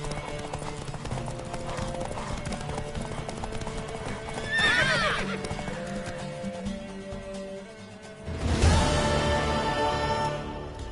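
Horse hooves clip-clop steadily throughout, with a horse whinnying partway through and a louder burst of activity near the end.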